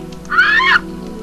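Bird enemy in Tomb Raider 2's Tibetan Foothills gives one loud, harsh squawk of about half a second, standing out clearly over a steady low game hum.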